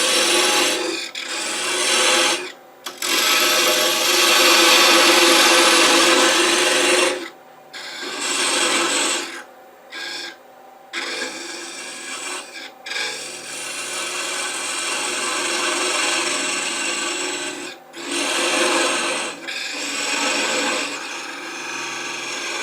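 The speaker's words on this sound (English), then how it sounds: "part it off with a thin parting tool" Thin parting tool cutting off a small wooden Nordic gonk ornament spinning on a lathe, a steady close rasping scrape broken by several short pauses as the cut stops and restarts.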